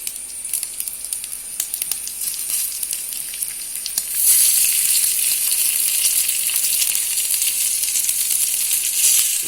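Pieces of pathrode, a Tulu-style colocasia leaf roll, fry in hot oil in a pan, giving a steady bright sizzle that jumps louder about halfway through and keeps crackling evenly up close with no voices.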